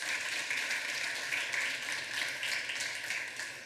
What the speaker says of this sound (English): Can we clap for this achievement?